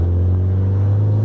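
Audi A3 with a 1.8 turbo engine on nitrous, idling or revving with a steady low drone and a strong, loud, close rumble that holds constant throughout, with no speech over it.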